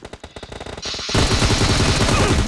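Gunfire in the video game PUBG: a quick series of close single shots gives way to loud, sustained automatic fire that fills the rest of the clip.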